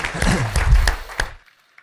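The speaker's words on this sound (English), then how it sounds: "Give him a round of applause." Audience applause for Russell Brunson at a business growth convention, a short, fairly loud burst of clapping that fades out abruptly after about a second and a half, leaving near silence.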